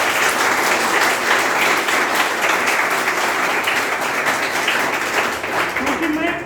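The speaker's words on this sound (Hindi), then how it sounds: "अपने लिए एक जोरदार ताली बजाइए।" A large audience at a Teachers' Day gathering bursts into loud, sustained applause, dense clapping that fills the whole stretch and holds steady before easing slightly near the end.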